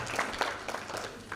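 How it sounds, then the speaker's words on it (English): Audience applause at a Women's Month dialogue event, a short patter of clapping with a few louder bursts, moderately loud and fairly close. "A round of applause again."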